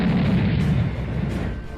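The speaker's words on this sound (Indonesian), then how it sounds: "sebuah ledakan dikarenakan ledakan dari granat pun terjadi" A grenade goes off in a fantasy fight story: a heavy, rumbling boom with sustained low roar and crackle that fills the whole moment, loud and close, with no voices.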